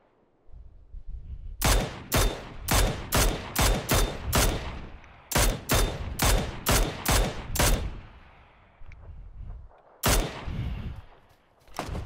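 Gunfire in PUBG: two volleys of about eight sharp, loud shots in quick rhythmic succession, followed by a fading echo, then one more isolated shot near the end.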